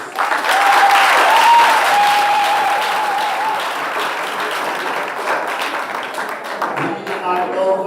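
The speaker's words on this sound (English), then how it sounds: "Now you can give a round of applause." A large audience at a national debating championship final breaks into sustained, dense applause that stays loud for several seconds and slowly thins out toward the end, with a few voices and a brief tone mixed in.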